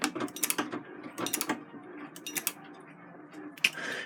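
A treadle sewing machine winds a bobbin with a busy clatter of clicking, ratcheting mechanical parts. Irregular bursts of clicks fade toward a steadier whir, close up and with no talk.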